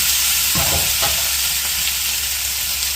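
Boiled potatoes sizzle loudly in hot oil with a dense, steady frying hiss, while two quick scraping stirs of a spoon through the pan cut in near the start.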